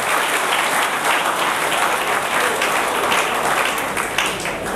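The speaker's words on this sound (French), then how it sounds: "Est-ce qu'on peut acclamer très très fort pour lui?" An audience in a hall breaks into loud, sustained applause, dense clapping that holds steady for several seconds with a few faint cheers mixed in.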